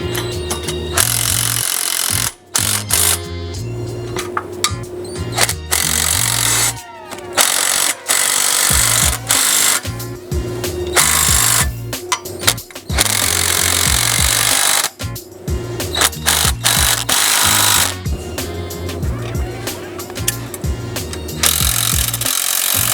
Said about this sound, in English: we'll go ahead and grab our socket and wrench and get those all tightened up